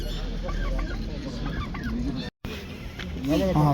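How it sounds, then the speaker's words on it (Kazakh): Chicken chicks for sale at a bazaar, with high cheeping calls scattered among crowd murmur and clucking fowl, and louder calls near the end. "тауықтың балапандары"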